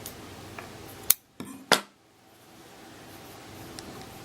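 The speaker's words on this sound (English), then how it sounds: "cut our yarn" Scissors cut yarn during crochet work, giving a couple of brief, sharp snips up close over a quiet room background.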